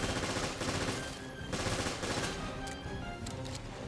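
Handgun and machine gun fire in Resident Evil Revelations Raid Mode: dense bursts of rapid shots and impacts at full volume with no gaps, rattling and overlapping for the whole stretch.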